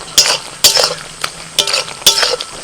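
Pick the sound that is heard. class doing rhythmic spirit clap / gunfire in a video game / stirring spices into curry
stirring spices into curry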